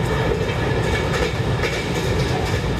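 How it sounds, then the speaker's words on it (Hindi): Dehradun Express passenger train rushing past in Train Simulator, a loud, steady roar of wheels and rail clatter filling the whole stretch with no talk. "सामने से गाड़ी आ रही है 19019 बांद्रा से हरिद्वार के लिए चलने वाली देहरादून एक्सप्रेस"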